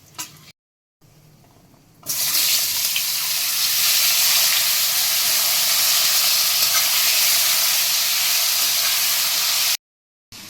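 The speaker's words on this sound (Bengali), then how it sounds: "এবার এটা একটুখানি নাড়িয়ে আমি এতে আলুটা দিয়ে দেবো।" Potatoes hit hot oil seasoned with dried chili, cumin, cardamom and bay leaf, setting off a sudden loud, steady sizzle that carries on for several seconds before cutting off.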